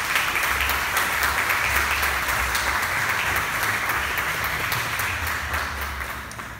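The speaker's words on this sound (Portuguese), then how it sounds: "Vamos aplaudir a palavra de Deus." A church congregation applauds after a Bible reflection, a dense, steady wash of many hands clapping close by, holding at full strength before easing off slightly near the end.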